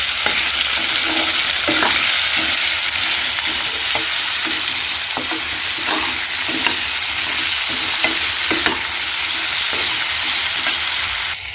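Vegetables for hilsa fish tok are stir-fried in a pan, producing a loud continuous sizzle with repeated scraping strokes of the spatula at an uneven rhythm throughout.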